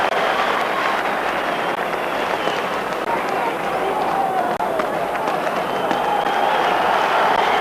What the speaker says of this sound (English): huge applause goes up for Oleg Salenko